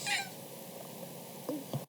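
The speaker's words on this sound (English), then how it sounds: "He walked right up to me as I was talking and he meowed" A male cat gives short meows close by, a brief call at the start followed by two quick, softer meows near the end over a faint room hum.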